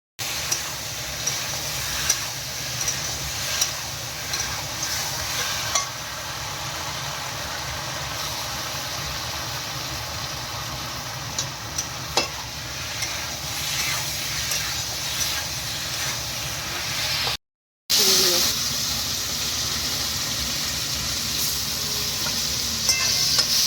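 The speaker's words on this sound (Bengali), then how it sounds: "আর এখানে হচ্ছে ভেটকি মাছের জন্য আলু লাল করে ভাজা" Potatoes fry in a wok with onion and green chili, seasoned with salt and turmeric for a bhetki fish curry, giving a steady close sizzle and hiss with occasional stirring clicks and a brief cut near the end.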